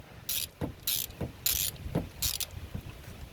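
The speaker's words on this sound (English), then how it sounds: "I'm putting my new spark plug in now" A new spark plug being installed in a 2008 Chevy Colorado with a socket wrench: close, rhythmic bursts of ratchet clicking, about five pulls spaced evenly, with soft knocks between them.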